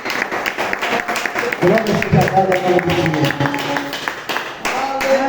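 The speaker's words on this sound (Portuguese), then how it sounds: "Vamos aplaudir Jesus?" A church congregation claps for Jesus at a Portuguese-language worship service, a steady patter of many hands running under a preacher's voice throughout.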